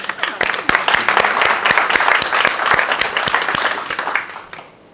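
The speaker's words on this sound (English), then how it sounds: "I think that's a round of applause" Audience applause at a presentation during a Cambridge business event, a dense, loud round of clapping with distinct sharp claps that fades out near the end.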